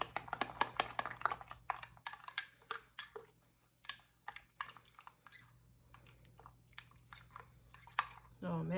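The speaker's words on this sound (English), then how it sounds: "Get my dry milk in here. Get that all stirred up." Dry milk is stirred into a sourdough mixture in a bowl, giving rapid clinking and tapping of a utensil against the bowl, dense at first and then sparser, close by, with some talk heard.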